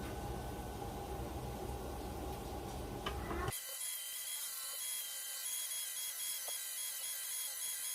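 A Worksharp Ken Onion belt grinder running an 80 grit belt grinds a blade, first a dense rough pass, then a thinner steady hiss with faint scraping ticks.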